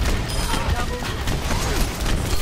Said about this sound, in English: I just noticed they're shooting at me.